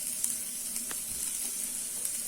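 Thinly sliced large onions sauté in hot oil in a pan for a vegetable kurma, giving a constant bright sizzle with an occasional light stir or tap.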